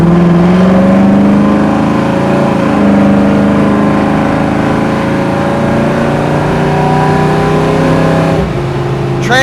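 A 1968 Chevrolet Camaro SS engine pulls hard under acceleration, its loud droning note climbing in pitch, dropping briefly at a transmission shift, and rising again, heard from inside the car.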